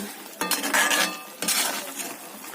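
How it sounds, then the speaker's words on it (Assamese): A spoon stirs sugar through khurma in a pan, giving a few close, bright scraping strokes against the metal with short pauses between them and no voices. "আপুনি চেনিখিনি যেতিয়ালৈকে গোটেইখিনি ইয়াতে মিহলি হৈ নাযায় তেতিয়ালৈ লৰাই থাকিব"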